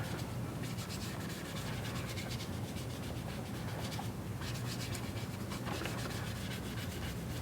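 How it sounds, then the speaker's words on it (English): A chlorhexidine sponge scrubs the skin around a PICC central line site in a steady back-and-forth motion, giving a continuous soft, close rubbing scratch at low volume. "you're going to scrub in this back and forth motion for 30 seconds"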